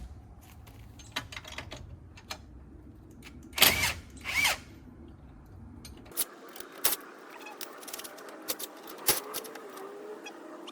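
Hand tools and a power tool worked on a car's front suspension while dismantling it, with sharp metallic clinks, ratcheting, brief drill whirs and clattering parts close by, no speech.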